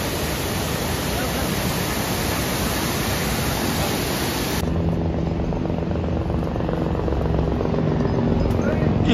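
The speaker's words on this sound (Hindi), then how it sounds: "हेलिकॉप्टर" A helicopter flies near Kedarnath on the mountain pilgrimage route, a dense, steady roar of rotor and engine noise that drops to a softer, fluttering drone partway through.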